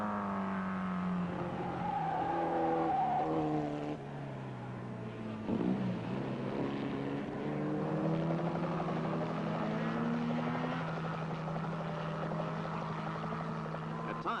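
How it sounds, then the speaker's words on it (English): Race cars at the 1962 Players 200 at Mosport scream past at over 130 mph, engine notes rising and falling in sweeping Doppler passes, loud and continuous with several cars overlapping. "these cars are doing more than 130 miles per hour"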